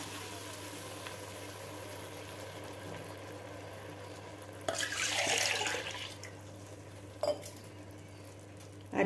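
A brief splash of water is poured into a pot of soaked rice and dal over sautéed tomatoes for a one-pot dish, lasting about a second against a low kitchen hum, followed by a couple of light clinks.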